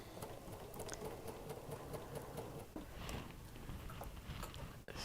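A home sewing machine with a 1/4 inch presser foot stitching a 1/4 inch quilting seam, a rapid even mechanical whir close by and fairly quiet, running steadily before a brief stop near the end.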